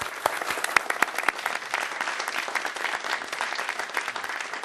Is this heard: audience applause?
yes